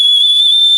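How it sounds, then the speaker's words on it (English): A survival emergency whistle gives one loud, piercing, steady high tone, sustained evenly for under a second and heard alone at close range. "we got a survival whistle, an emergency whistle"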